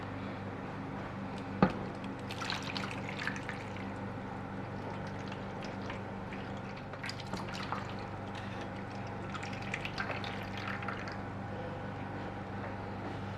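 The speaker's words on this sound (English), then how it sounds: "We're gonna just pour the water in here, and then we can bake the cheesecake." Hot boiled water poured into a baking pan as a water bath for a vanilla chocolate cheesecake, a low steady wash of liquid with occasional faint splashes and drips throughout.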